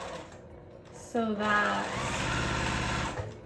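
A sewing machine chain-pieces quilt block fabric for a farmhouse quilt, running in a continuous close whir that starts after a few spoken words and continues unbroken.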